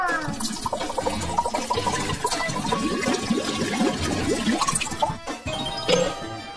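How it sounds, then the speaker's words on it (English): Water runs into a container for a children's slime experiment, a fairly loud splashing, gurgling stream with drips and shifting pitch close by, briefly interrupted near the end. "Let's fill it with water."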